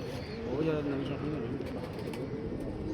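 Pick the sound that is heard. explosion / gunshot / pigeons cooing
pigeons cooing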